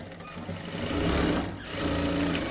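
Sewing machine running steadily as it stitches a dart on a blouse, a continuous close mechanical whir that swells louder midway, dips briefly and picks up again.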